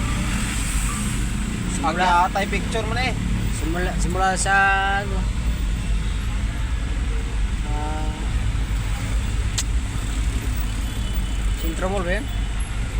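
Heavy road traffic in Antipolo, a continuous low rumble of idling and crawling cars and trucks close by, with people chatting over the engine noise.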